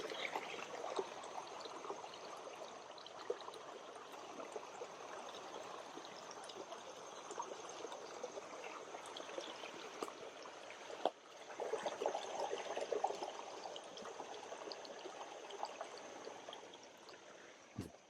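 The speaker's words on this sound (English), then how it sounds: "A little bit of a creek running through." A small creek runs through forest along the South Fork River trail, its steady close trickle and splash continuous throughout, with no voices.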